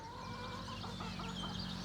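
Chickens cluck softly close by in a short burst of overlapping, choppy calls.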